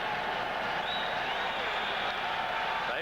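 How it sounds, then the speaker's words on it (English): Hockey arena crowd at a 1985 NHL playoff game between the Detroit Red Wings and Chicago Blackhawks, a steady loud roar of voices and applause filling the whole stretch, with a broadcaster's voice faintly over it. "Crowd making a lot of noise"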